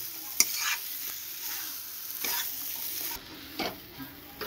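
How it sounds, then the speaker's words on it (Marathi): Brinjal masala roasting in oil in a pan, with soft sizzling and intermittent scraping stirs of a spoon, fairly quiet and close, with no talk. "अशा प्रकारे आपल्या वांग्याचा मसाला भाजला गेला आहे, पण तेल सुटस तोपर्यंतच भाजायचे"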